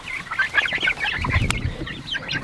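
Chickens raised for meat on a small farm cluck in quick, overlapping bursts, fairly close, with a low rumble joining partway through and no talking.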